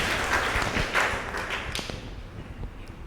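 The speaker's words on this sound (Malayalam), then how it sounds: "കൈയടിച്ച് കർത്താവിന് നന്ദി പറയാം." A church retreat audience claps in thanks during a prayer session, producing a steady, moderately loud patter of many hands throughout, with a few louder thumps and no clear talk over it.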